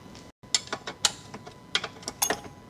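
Ratchet wrench clicks come in quick irregular bursts as the 17mm nuts come off a transmission mount on a 1986 Porsche 944 Turbo, close and fairly quiet, with no talking.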